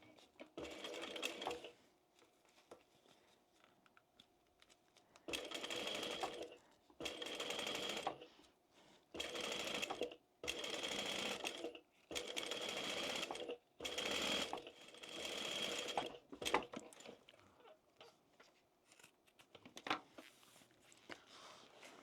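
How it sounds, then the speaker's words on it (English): A sewing machine bastes and stitches a thick tote bag in a circle, running in repeated loud bursts of rapid needle chatter with short pauses between runs. "What we're going to do now is just baste that and sew it in a circle."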